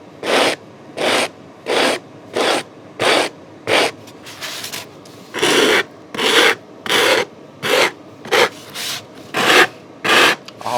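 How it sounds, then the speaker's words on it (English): Coarse sandpaper sanding balsa wood for a scratch-built RC plane aileron, about fifteen loud, evenly spaced rasping strokes in a steady back-and-forth rhythm, close up with no talk. "how quickly this coarse sandpaper takes that balsa down"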